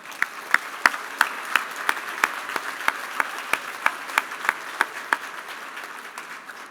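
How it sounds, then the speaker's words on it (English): Audience at a grand wine tasting event applauds, with a soft bed of many hands under sharp, regularly spaced loud claps from someone close by, fading at the end. "Let's give them another big round of applause."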